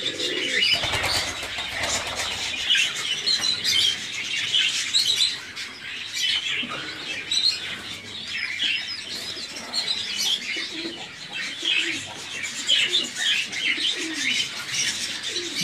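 Turkish pigeons coo and chirp in a loft, with repeated soft calls, wing flaps and rustling close by throughout, and no voices.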